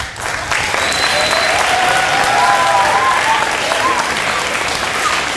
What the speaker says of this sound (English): we clap with our hands